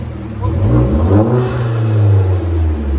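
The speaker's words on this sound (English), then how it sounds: "Oh yeah, you can hear the turbo now. That sounds so good." A Hyundai Genesis Coupe with a 2.0L turbo engine and straight pipes revs loudly close by, its deep exhaust drone rising and falling with a whirring turbo note, and no voices over it.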